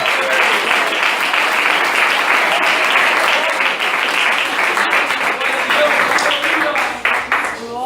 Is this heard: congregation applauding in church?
yes